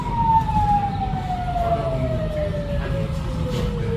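A single police car siren tone slides slowly lower as the car goes by on a street in Nigeria, over a steady rumble of road traffic.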